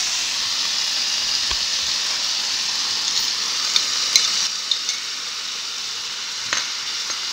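Onion paste sautéing with ginger garlic paste in a pan for palak paneer: a steady, close sizzling hiss throughout, with a few soft clicks of stirring.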